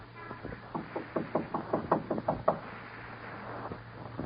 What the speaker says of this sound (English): No one's home. Knock again.